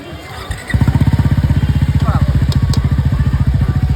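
A motorcycle engine roars to life after a brief quiet start, then keeps up a loud, close, rapid thumping exhaust beat.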